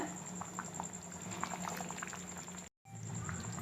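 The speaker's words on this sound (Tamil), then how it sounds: "ஒரு நிமிஷம் கொதிக்க விடுங்க." Soft bubbling and popping of a thick pakoda kurma simmering in a pot over high flame, steady and close, with a brief dropout near the end.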